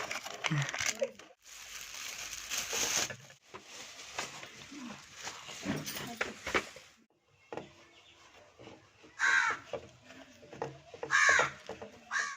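Several loud crow caws ring out near the end, following stretches of chatter and background commotion with people talking.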